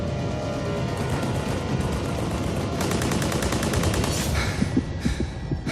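Enemy machine guns rattle across a World War I no man's land in bursts of rapid shots, the fire growing sharper and denser in the middle, with scattered single cracks near the end.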